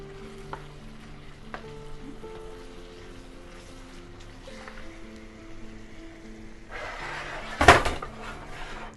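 Food fries and sizzles softly in a pan on a home stove while cooking fubwa, tilapia and kwanga, with light clinks of utensils and a sharp burst of louder sizzling near the end.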